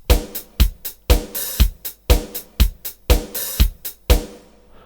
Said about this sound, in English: I have this program number 1 drum loop,